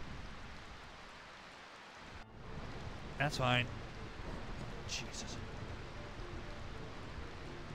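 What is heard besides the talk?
rain falling in the video game Final Fantasy IX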